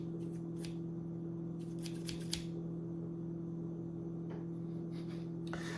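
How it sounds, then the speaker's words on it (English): Cheap scissors open and close in a few short, sharp snips and clacks, close by over a steady electrical hum in a kitchen setting, with longer quiet gaps between the bursts. "no offense, but these are not good scissors"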